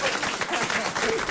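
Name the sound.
audience applause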